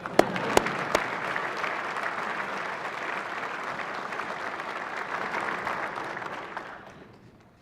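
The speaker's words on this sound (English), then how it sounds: "You can clap for them." Sustained applause from an audience in a legislative House chamber during a state judiciary address, a few sharp claps standing out at the start before the steady, dense clapping fades away near the end.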